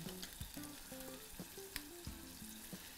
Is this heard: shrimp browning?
yes